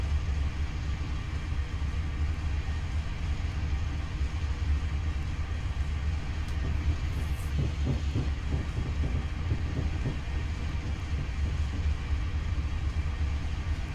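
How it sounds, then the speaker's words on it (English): A Class 50 train in a train-simulator video game rumbles steadily along the Settle line, with a quick cluster of rhythmic clacks from wheels crossing track joints partway through. "Oh, they're track joint sounds"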